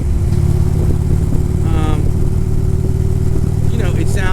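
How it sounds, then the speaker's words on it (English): A motorcycle engine runs in sixth gear at highway speed with a steady, loud low drone and wind rush, while someone talks over it in short stretches. "You know the engine's working. You have passing power in 6th gear on this bike at highway speeds"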